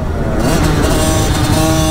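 A Yamaha YZ85 dirt bike engine revs loud and close, a sustained buzzing two-stroke drone holding high throttle throughout with no speech.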